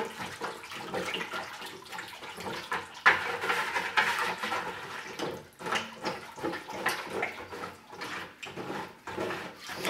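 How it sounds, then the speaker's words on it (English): Thick pottery ash glaze, made from pitfire ashes, stirred around in a bucket: a continuous wet sloshing and scraping churn with irregular surges, close and fairly loud, with no voices. "I'm just going to add and stir it around."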